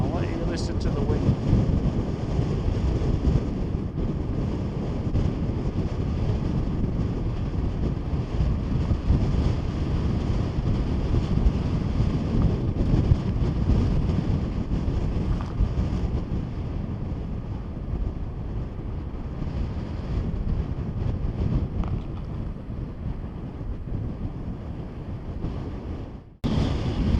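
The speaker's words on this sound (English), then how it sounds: "I'll let you listen to the wind." Strong wind roars continuously across the microphone on an Icelandic beach, loud and gusty, with the low rumble of surf beneath and a voice speaking occasionally.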